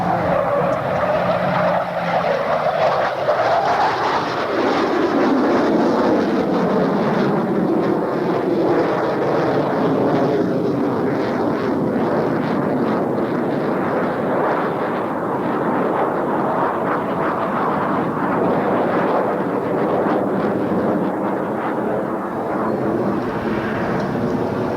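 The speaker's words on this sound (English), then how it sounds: "At show center, he will select full afterburner and commence the first part of a loop." An F/A-18 Hornet at a 1993 Hanscom Air Field air show roars loud and steady on full afterburner as it pulls into a loop, a broad continuous jet rumble with a slowly shifting pitch and no voices.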